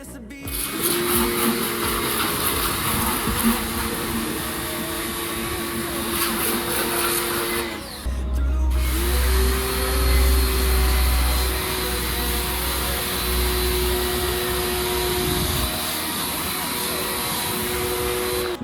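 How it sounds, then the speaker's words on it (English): A compact car pressure washer runs continuously with a loud, steady motorized whine and hiss that dips briefly about midway and then resumes. "Now let us check the pressure washer."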